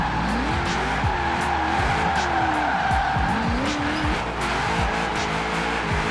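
A Nissan S13 with a 6.2 V8 drifts on the handbrake in Forza Horizon 4, its tires squealing and skidding over a continuous engine roar with shifting pitch and repeated sharp bursts.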